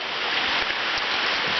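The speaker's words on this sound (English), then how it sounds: "That's the overflow from the water's coming through the gutter into the big tank" Rainwater overflows from a gutter into a large tank at a demolition site, making a loud, continuous rushing splash close to the listener.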